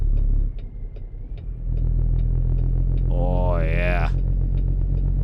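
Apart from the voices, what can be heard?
Cummins N14 truck engine rumble, from video game American Truck Simulator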